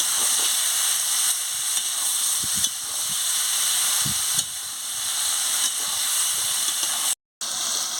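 Papaya, soybean chunks and potato frying with fish in a spice masala for a Bengali curry, giving a steady, loud sizzling hiss that runs on with a few soft clinks of utensils and no voices.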